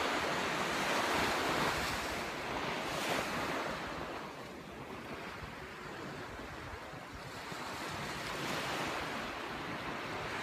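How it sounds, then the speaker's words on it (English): Ocean surf rolls onto Nai Yang beach in Phuket as a steady broadband wash, swelling and easing slowly, with some wind buffeting the microphone and no voices. "Listen to the ocean."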